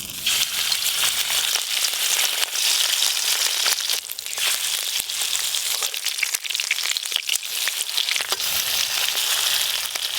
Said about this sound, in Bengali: তেল গরম হয়ে গেছে, এবার বড়াগুলো ভেজে নেব।